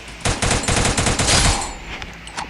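Loud rapid-fire gun bursts in the battle-royale game Free Fire, a quick string of close shots that peaks then trails off into fainter scattered pops and quiet.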